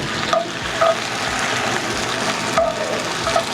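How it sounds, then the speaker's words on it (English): Food sautés in a hot pan with a loud, steady sizzle, punctuated by a few brief stirring clinks and scrapes at irregular moments. "Saute this up."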